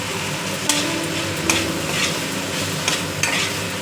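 Chilli powder and chopped green chilli stir-fried with spices in a pan for fish-roe ghugni, a steady sizzle broken by several sharp scrapes of a spatula at regular intervals.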